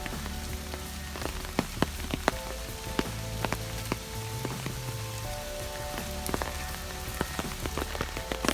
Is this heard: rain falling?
yes